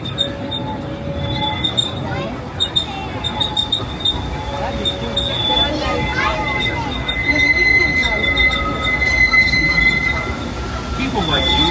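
A Disneyland Railroad train rolls along its rails with wheels squealing in sustained high whines, over a steady rumble of the cars; a voice talks intermittently through the ride.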